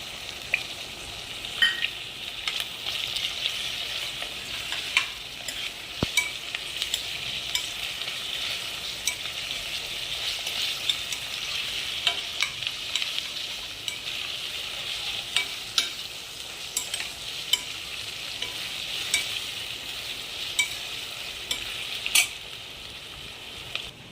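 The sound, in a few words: ginger garlic paste frying and being stirred for biryani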